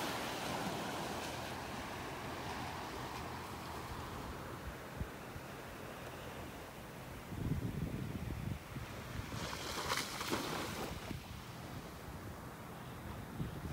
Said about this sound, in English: and now just a couple little waves kicked up.